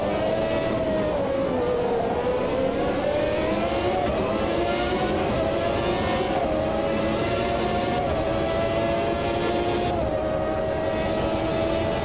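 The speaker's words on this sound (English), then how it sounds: "At least the engine sounds great for you to listen to." Loud, sustained scream of a historic Formula One engine in the Automobilista 2 sim, revs climbing steadily and dipping slightly on shifts, heard alone without talk.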